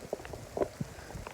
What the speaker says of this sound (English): a little rain never hurt anybody